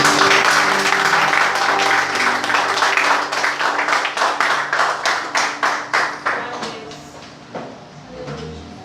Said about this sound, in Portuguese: Salve de palmas para o Senhor.